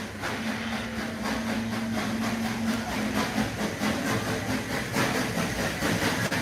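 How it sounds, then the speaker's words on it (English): A park train at Silver Dollar City approaches with a steady rumbling, hissing chug and rhythmic clatter, moderately loud and continuous amid outdoor ambience. "Here it comes. Again, I love the train so much."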